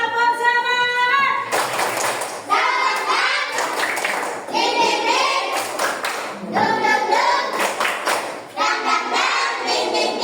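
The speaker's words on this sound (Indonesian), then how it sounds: "Tepuk semangat." A classroom of children performs a rhythmic spirit clap, bursts of patterned claps in short groups alternating with chanted voices, close and lively.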